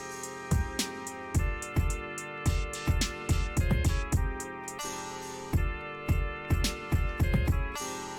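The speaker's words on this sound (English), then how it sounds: "It's a reverb cymbal too, so you can hear it kind of echo in the background." A beat plays with punchy rhythmic drum hits and a reverb cymbal echoing in the background over a sustained melodic layer.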